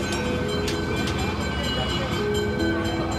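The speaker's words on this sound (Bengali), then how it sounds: "কলেজ স্ট্রিট থেকে ট্রামটা ছেড়েছে।" A Kolkata tram pulls away from the College Street stop on a busy afternoon, giving a steady, continuous mechanical rumble with a faint tonal whine and a soft murmur of background activity throughout.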